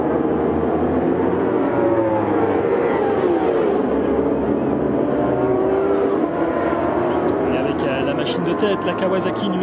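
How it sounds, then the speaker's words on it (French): Kawasaki racing motorcycle from Team SRC running at the Bol d'Or endurance race, a steady, loud engine drone from track traffic with a continuous wash of motor noise throughout. "La Kawasaki numéro 11 du team SRC de Gilles Staffler."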